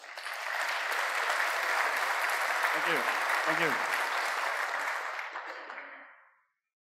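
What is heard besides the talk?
conference audience applauding the speaker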